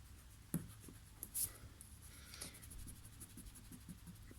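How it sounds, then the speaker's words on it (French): An eraser rubs out pencil marks on paper at a craft table, giving quiet, close scratchy strokes with a few sharper brushes and taps. "Donc ça, je vais gommer."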